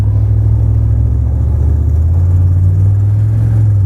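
GMT400 pickup truck driving while its new brakes are burned in after a front end rebuild, a loud, steady low engine drone from inside the cab with a slight rise in pitch partway through.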